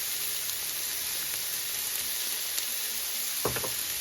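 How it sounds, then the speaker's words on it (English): Sliced peppers and onions sizzle in a hot pan with garlic, paprika and salt, a constant close frying hiss with a few faint clinks of stirring, with no talk. "So at this point, you are just cooking the peppers and the onions with the seasoning."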